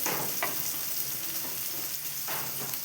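Green chillies sizzle and fry in a pan with sautéed onions for a mushroom masala, a steady broadband crackle with a couple of brief scraping stirs, close and continuous, no voices.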